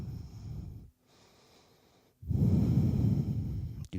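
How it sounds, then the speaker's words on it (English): Deep breaths during a yoga back bend: one long exhale, then a quiet pause, then a strong, full breath close to the mic, with no talk. "And breathe."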